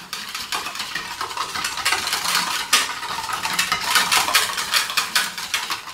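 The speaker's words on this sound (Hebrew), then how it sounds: "ואני לא מחכה, צריך לערבב מהר" Hot milk being whisked quickly into egg yolks for crème brûlée, a steady run of close, busy metallic clinks and scraping against the bowl with no talking.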